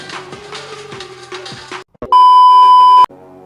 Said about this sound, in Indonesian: Ini ada telepon masuk nih teman-teman.